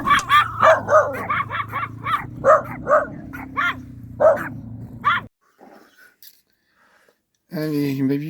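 Chihuahua barking in quick, sharp, high yaps, close and loud, followed by a pause and then a brief whine or bark at the end.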